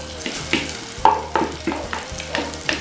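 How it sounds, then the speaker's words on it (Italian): Salmon browns gently in butter in a pan, with soft sizzling under a series of rhythmic utensil knocks and scrapes against the pan, close and moderately loud. "il salmone che lascio rosolare un pochino nel burro"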